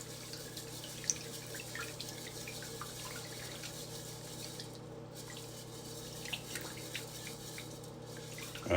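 Tap water runs steadily into a kitchen sink while rice is rinsed, a constant close hiss with faint drips and small splashes throughout.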